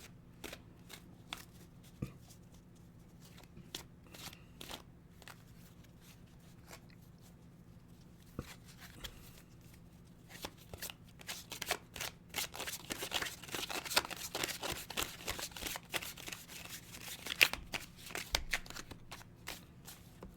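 Tarot cards are shuffled by hand with soft riffling and tapping, quiet at first and then growing busier and louder toward the end.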